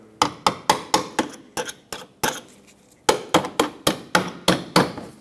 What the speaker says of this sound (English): Take a small hammer and tap the center first.